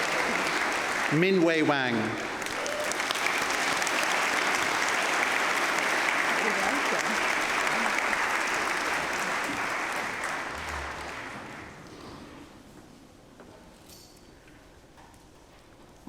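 Audience applauding at a University of Manchester graduation ceremony, a dense sustained clapping that fades out toward the end, while a voice announces a graduate's name at the start.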